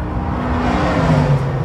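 A car passing at a car museum in Los Angeles, a loud close engine whir and rising drone sweeping by in a short continuous burst, with no talk over it.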